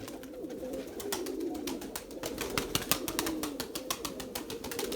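Pigeons coo repeatedly around a Turkish pigeon loft, soft throaty rolling calls overlapping near the microphone, mixed with rapid sharp clicks and taps, and no speech.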